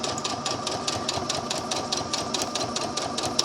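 A sewing machine stitches a scalloped skirt waist over polyester boning, a continuous rapid chatter of needle strokes held close and steady throughout, with no voices.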